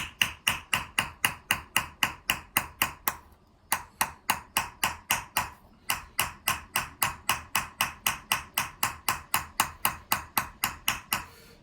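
Steady, evenly spaced metallic hammer taps ring out close by as a metal vessel is chased, a brief pause breaking the rhythm before the light tapping resumes.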